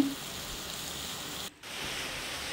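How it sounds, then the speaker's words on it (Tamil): Steady rain falls outside as a continuous even hiss, with no voices over it. "ஸோ இடையில வந்து மழை வேறு பெய்யுது"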